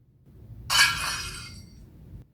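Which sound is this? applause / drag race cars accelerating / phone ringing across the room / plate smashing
plate smashing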